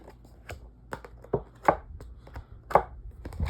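Flimsy plastic fan blade from a 3-in-1 fan handled and flexed, giving a series of sharp, papery crackles and taps with little pitch, several louder clicks standing out, close up and with no talking.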